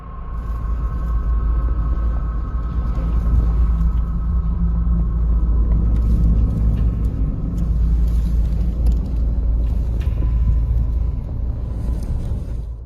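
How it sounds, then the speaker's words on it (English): Traffic rolling along an interstate through a dust storm in Delhi gives a steady, loud low rumble of engines and wind, continuous with no talk. "Several vehicles are seen traveling cautiously down an interstate, while a dust storm whips up around them"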